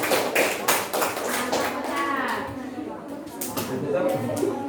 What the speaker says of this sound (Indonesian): Dari tepuk tangan untuk kelompok 5.